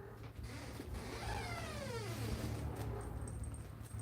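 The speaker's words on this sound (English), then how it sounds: "it's all that meowing and whining" A cat lets out one long, drawn-out whining meow that slides downward in pitch. It is faint and somewhat distant, set against low creaking and mechanical background noise.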